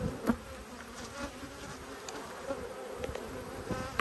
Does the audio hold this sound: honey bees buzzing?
yes